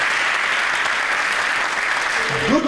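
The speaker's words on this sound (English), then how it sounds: "So give one round of applause for yourself." Audience applause at a business meeting with company CEOs, steady dense clapping filling the room throughout, with a voice starting to speak faintly just at the end.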